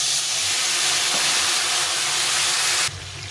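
Spice paste frying in a pot bursts into a loud, steady sizzle and hiss as water is poured in, holding for about three seconds before dropping sharply to a quieter simmer.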